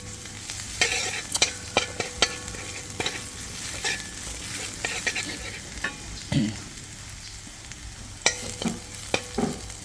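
Garlic fries in a hot pan, a bright, continuous sizzle broken by repeated scraping and clacking as a utensil stirs it, close and fairly loud.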